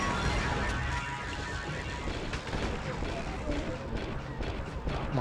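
Gunfire and explosive blasts from Star Wars Republic Commando fill the scene with a dense, continuous din of battle, a shotgun among the weapons, while someone talks over the noise throughout.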